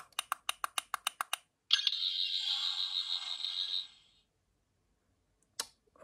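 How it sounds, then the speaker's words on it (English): 14th Doctor Sonic Screwdriver toy, standard retail version: a rapid series of eight sharp clicks from button presses, then a bright electronic whirring tone that holds for about two seconds and cuts off, followed by another short click. "the loudest, the longest sound effect in the whole of Sonic Screwdriver toy history"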